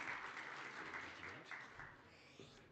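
Conference audience at an oil and gas event in Namibia applauds to welcome the session moderator, a brief, fairly quiet wash of clapping heard at a distance with a faint murmur beneath it.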